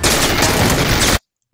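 Dense, continuous burst of gunfire from a shooter video game fills the clip, loud and unbroken for over a second before cutting abruptly to silence.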